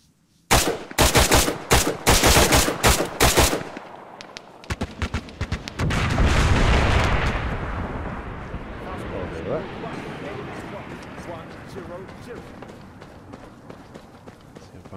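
Rifle gunfire in the military shooter Arma 3: sharp, loud bursts of rapid shots in the opening seconds, then a heavy rumbling boom that fades into distant ambient noise, with talk mixed in.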